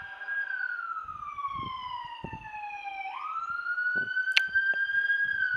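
A police car siren wails in a long sweeping tone that dips and rises again, loud and steady across the whole stretch, with faint low rumbles and a brief sharp click beneath it.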